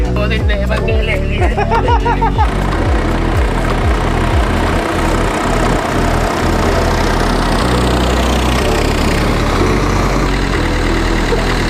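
A heavy tractor engine idles steadily and loud throughout, with a low rumbling drone and some knocking pulses near the start, under background voices.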